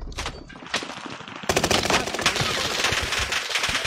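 Rapid automatic gunfire in the Warzone battle royale game, sparse bursts at first, then a dense continuous fusillade of sharp shots close by.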